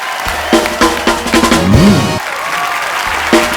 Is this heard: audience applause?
yes